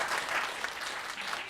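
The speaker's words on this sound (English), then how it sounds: "should we give a round of applause to our panel?" Audience applause for a panel at an innovation festival, a steady wash of many hands clapping in a hall, moderately loud and unbroken with no voices over it.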